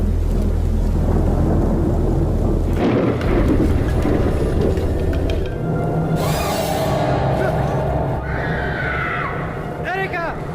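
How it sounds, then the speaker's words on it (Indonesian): Rain pours steadily during a mountain hike in the 2019 Indonesian horror film Banal, with a deep rumble of thunder early on and a loud crack midway, all beneath a busy film soundtrack with some voices. "Hujan pun turun dan mereka memutuskan untuk tetap berjalan"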